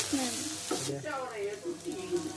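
Spinach stir-frying in a pan for a baked spinach cheese dish, with a close, steady sizzle and some stirring under a voice talking.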